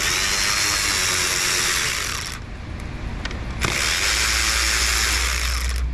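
A hand ratchet clicks rapidly and steadily while components are removed from the intake manifold of a Hyundai or Kia, loud and close, pausing briefly midway before resuming.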